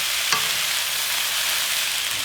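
Onions and carrots stir-fry in a hot pan with oil, a bright continuous sizzle with one brief scrape of stirring near the start.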